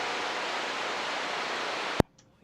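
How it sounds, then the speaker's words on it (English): A power inverter in a radio setup with an unreplaced capacitor gives off a steady, faint broadband hiss that cuts off abruptly with a click near the end. "What you're hearing right now is my inverter."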